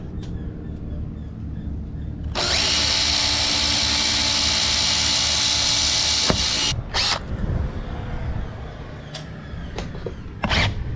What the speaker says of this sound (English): Drilling the pilot hole.